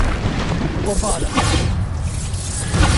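A Bombarda blast spell in Hogwarts Legacy on PS5 goes off as a loud booming burst with whooshing debris, layered over continuous game sound and a spoken voice.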